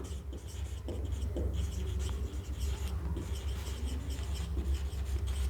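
Faint scratchy strokes of writing on a board during an organic chemistry lecture, soft and intermittent over a steady low hum of room noise.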